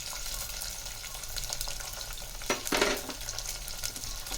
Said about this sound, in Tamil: இப்போ ஒரு 4 பச்சை மிளகாய் சேர்த்துக்கலாம்.